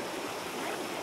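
Water from a mountain spring source flows and rushes in a steady, continuous broadband wash at moderate, even volume with no break.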